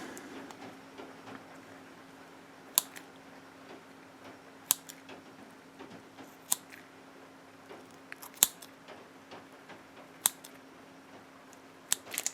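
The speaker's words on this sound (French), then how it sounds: "ASMR ciseaux" Scissor blades snip sharply through a Greek fast-food meal at irregular intervals, about eight crisp close-up cuts against a quiet, humming background.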